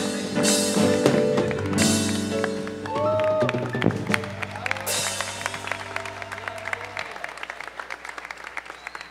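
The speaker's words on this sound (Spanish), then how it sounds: "Fuerte el aplauso para nuestros amigos agustinos" Audience applause at a diocesan vocational song festival in 2018, a dense, sustained wash of clapping. The clapping fills the whole stretch and thins slightly toward the end, with music tones and a voice faintly underneath.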